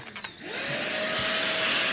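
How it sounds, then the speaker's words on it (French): A household vacuum cleaner switches on: a short click, then the motor whines up to full speed and settles into a loud, steady roar that fills the rest of the moment. "Et vous allez mettre l'aspirateur en route."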